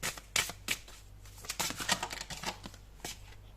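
Tarot cards are handled and shuffled in quick crisp bursts of riffling and snapping card sounds, close up, with brief pauses between flurries and no talk.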